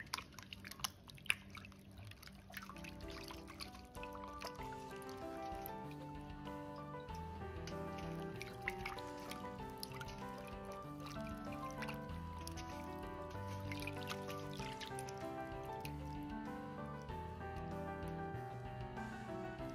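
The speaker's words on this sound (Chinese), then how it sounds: "倒入多一些的温水清洗干净" Chicken thighs being rinsed in warm water in a bowl: steady sloshing, dripping and squishing of water and meat, continuous and close but fairly quiet.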